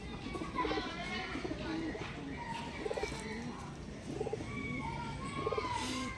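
Pure-blood Pilanka pigeons coo in soft, repeated bursts at close range, mixed with chirps from other birds and occasional voices in the background.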